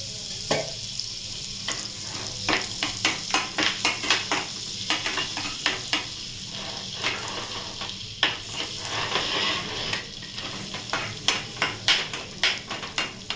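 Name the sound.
butter and oil sizzling in a kadhai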